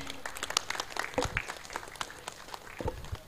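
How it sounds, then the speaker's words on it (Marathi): Audience applause at a prize ceremony for a local premier league cricket tournament, a dense crowd clapping steadily at moderate distance with scattered louder claps. "सगळ्यांनी त्या जोरदार टाळ्या वाजवायच्या त्यासाठी"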